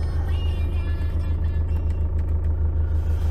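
A 2012 Iveco Daily 3.0 turbo diesel 4x4 idles with a steady, loud low rumble and a faint rhythmic clatter, heard close up and with no one talking.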